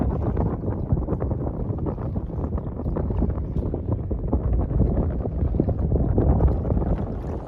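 A 1994 Johnson 60 hp outboard motor runs on a Shetland 498 boat, a steady, loud, low drone with continuous rumble and wind buffeting against the microphone, no speech.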